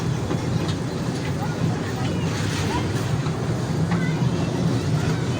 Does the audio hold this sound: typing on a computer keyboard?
no